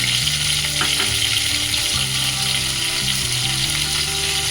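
Ground spices for a Bengali katla fish curry fry in a pan, a continuous close sizzle with faint stirring scrapes over a steady low music bed.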